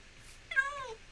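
A cat in the video game Minecraft gives a single short, close meow lasting about half a second. Before it there is only faint background hiss.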